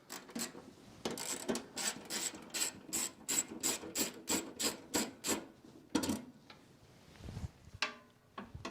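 A ratchet clicks in quick, regular bursts while backing out 3/8 bolts on a riding lawn mower, close and distinct, followed by a few metallic rattles and a thunk as the bolt comes free; no talking.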